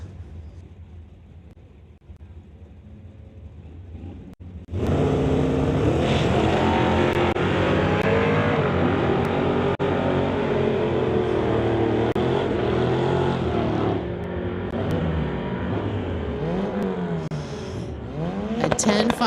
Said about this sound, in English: He's from Langley, driving his car called Daisy, going against Scott in his car called Snoop